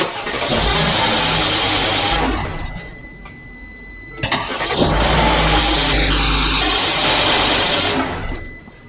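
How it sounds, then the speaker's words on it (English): A Mercedes-Benz engine with camshaft sensor faults cranks and catches, runs loudly for a couple of seconds, cuts out, then starts again and idles steadily close by. "so we started the car a few times"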